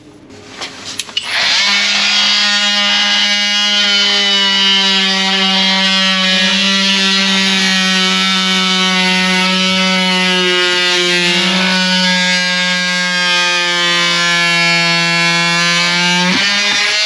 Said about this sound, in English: I'm going to get the multi-tool in there, cut that so we've got enough to get a coupler on